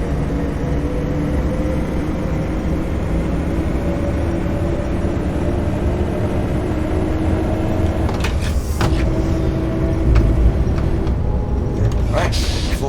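A Coachbus 256 bus in the OMSI 2 driving simulator drones steadily with engine hum and faint whine, a couple of sharp rattles near the end, and a voice talking over it.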